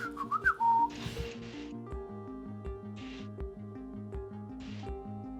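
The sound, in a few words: whistled trill imitating a bird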